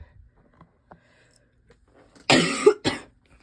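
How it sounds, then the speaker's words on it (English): A short burst of two or three loud, close coughs from a person, breaking a near-silent stretch. "Ignore coughing too"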